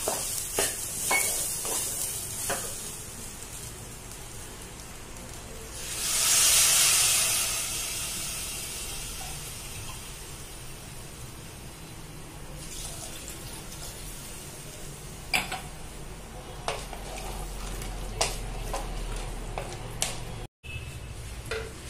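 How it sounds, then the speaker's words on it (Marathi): Water is poured into hot prawn rice masala, and a loud, hissing sizzle and steam flare rises midway. Stirring and scattered clinks and knocks from the pot follow as the hiss settles into a lower, steady bubbling. "आणि 2 ग्लास पाणी घेतोय आपण आता."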